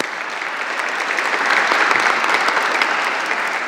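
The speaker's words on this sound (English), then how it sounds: "Can you join me in a round of applause for our panel?" A conference audience gives a dense, even round of applause to a panel on freedom of religion or belief, with steady close clapping that swells slightly midway and holds to the end.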